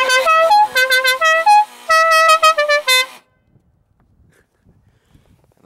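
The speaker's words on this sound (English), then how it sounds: "So all I gotta do is just hold down the horn and it'll play the tune." A musical air horn fitted to a 1985 Pontiac blares the La Cucaracha tune in loud, bright, choppy notes for about three seconds, then stops into near silence.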